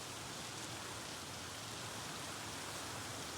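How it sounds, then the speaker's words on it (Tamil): Heavy rain pours down in a steady, dense hiss with no pauses, constant and moderately distant, with no voices over it. "சரியான மழைங்க. நீங்கள் பார்த்தாலே தெரியும் சவுண்ட் எப்படி இருக்குன்னு"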